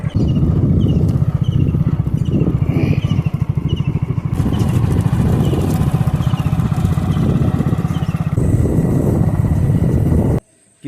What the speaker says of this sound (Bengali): নদীর ধার দিয়ে বাইক নিয়ে যাচ্ছি এখন